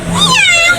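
A voice imitates a cat, giving one short, rising-then-falling meow that sounds close and fairly loud.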